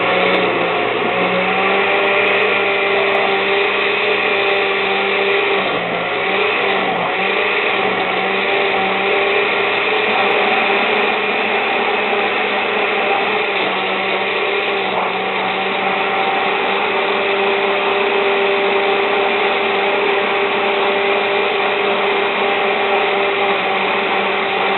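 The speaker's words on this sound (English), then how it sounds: "So I'm going to let this blend right now" A blender whirs steadily at high speed while blending a fruit smoothie, a loud, constant motor drone with faint churning that runs unbroken from start to finish.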